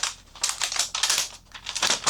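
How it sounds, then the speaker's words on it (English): Crackly, crinkling peeling of backing paper from craft vinyl in several bursts, close and fairly loud, with short pauses between pulls. "I'm just gonna pull back a little bit"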